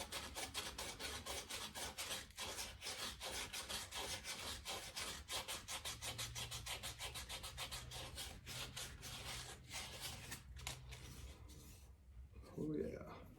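A wooden eating spoon being carved out at the bowl, with steady close scraping and rasping strokes in a fast repeated rhythm, continuing without pause, plus a brief clunk near the end.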